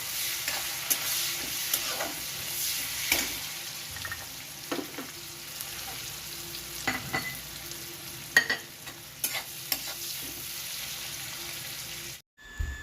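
Onions sizzle and fry in hot oil in a pan for a cream-free makhani gravy, with a steady crackle and occasional stirring scrapes. The sound continues near and alone, then cuts out abruptly just before the end.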